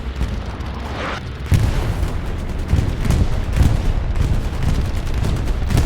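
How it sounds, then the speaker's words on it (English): Heavy bombing-run explosions in a Hell Let Loose battle, a continuous rumbling barrage of deep booms with sharper blasts layered over it, loud and sustained after a quieter start. "That's a big bombing run. That is a Syndicate bombing run."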